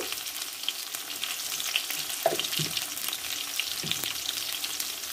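Potatoes frying in a pan, with salt just added, give a steady close sizzle throughout, broken by a few soft stirring scrapes and knocks.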